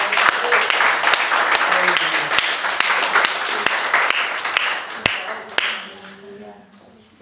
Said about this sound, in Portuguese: Você pode dar mais um aplauso ao Senhor Jesus?